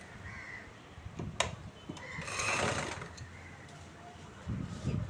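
A sewing machine stitches a folded edge on a chudithar in short whirring bursts, the longest run in the middle, fairly faint over a quiet room.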